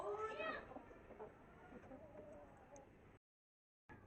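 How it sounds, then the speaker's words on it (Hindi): Bird calling near a flock of chickens, heard fairly close at first and then softer, with a short break of silence before it resumes. "ये परिंदा कोई बैठा हुआ है और बड़ी प्यारी आवाज़ निकाल रहा है।"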